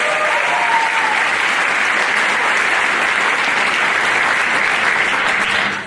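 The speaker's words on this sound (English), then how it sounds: "Round of applause for our boys." An audience applauds the boys at the Mr Hoosac 2022 school pageant, a steady, dense wash of clapping that holds evenly for about six seconds before trailing off at the end.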